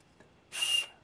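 A 3D-printed TPU whistle mounted on a mini combat robot gives one short, thin, high-pitched breathy tone lasting about half a second, preceded by faint background noise.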